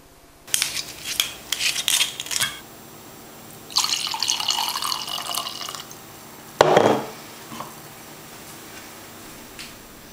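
Liquid splashes and trickles in a kitchen where lamb roast is being prepared, with several sharp clicks and short bursts and a longer pouring stretch around the middle, fairly close and with no speech.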